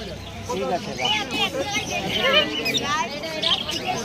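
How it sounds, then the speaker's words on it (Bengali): Beldanga Giribaz pigeons at a busy village bird market, their soft chirps and calls rising through steady crowd chatter and nearby voices. "এবার দেখাচ্ছি বন্ধুরা বেলডাঙ্গার কিছু পায়রা"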